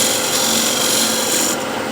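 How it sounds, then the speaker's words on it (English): Scraper dragged along the inside of a large wooden bowl, a continuous dry rasping scrape close up, steady and fairly loud throughout the short stretch. "And now one more scrape right into corner"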